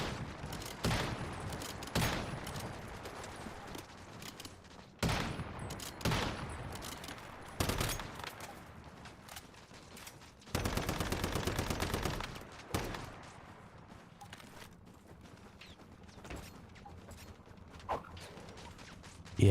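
Automated turrets fire guns in the Once Human video game, delivering loud bursts of rapid gunfire in repeated volleys with short gaps, including a sustained stretch of dense shots, followed by quieter mechanical creaks.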